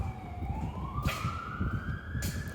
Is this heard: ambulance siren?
yes